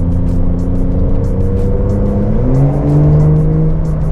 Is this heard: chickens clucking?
no